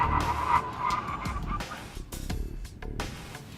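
Tires of a 2014 Cadillac CTS-V Sport skidding and squealing around a skid pad during a grip test, a steady wavering screech with engine noise, heard from a distance.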